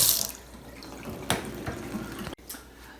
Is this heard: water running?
yes